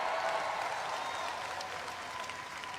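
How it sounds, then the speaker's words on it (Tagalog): A church audience at the Jesus Is Lord anniversary applauds in a steady, dense wash of clapping that holds at an even level throughout, moderately soft and a little distant. "Mas malakas din ang palakpak"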